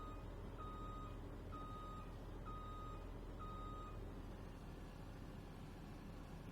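Reversing beeps from an F150 repo truck backing up to hook a vehicle in Farming Simulator 19: four evenly spaced tones, faint over a steady engine hum, with no voices.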